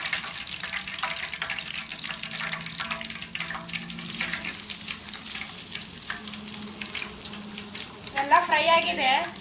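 Bangude mackerel frying in oil, a continuous close sizzle and spatter with scraping from stirring, ending in a brief louder clatter and squeal from handling the pan.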